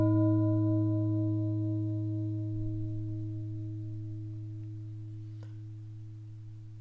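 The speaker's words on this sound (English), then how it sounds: "I'm going to use this Neptune singing bowl." A Neptune singing bowl sample rings as a steady sustained drone, with stacked harmonic partials slowly fading over about seven seconds and no voices.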